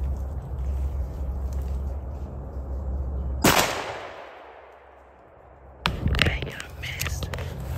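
A single sharp gunshot from a squirrel hunt in a state park cracks loudly midway through, followed by fading quiet and then a rustle, with soft whispering before the shot.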